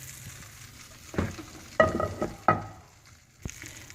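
Hot oil poured onto chilli pickle masala crackles and sizzles in short bursts. The sizzle flares loudly a few times, then settles into a quieter fry over a faint background hiss.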